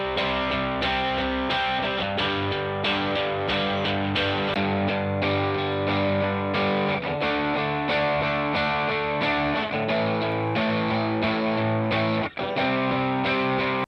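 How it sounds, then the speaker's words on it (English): A Fender electric guitar plays through an amp and a Greenback speaker, with sustained chords and picked notes ringing thick and full. It plays continuously and close, with no talking. "So it is just my Fender going into the guitar amp, going into the speaker."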